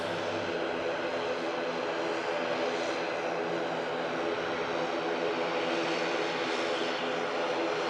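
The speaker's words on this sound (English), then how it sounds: "Aer Lingus, ATR 72, heading back to Dublin." An Aer Lingus ATR 72 turboprop airliner at Manchester Airport, its engines giving a steady, loud, broad roar that holds for the whole stretch with no talking.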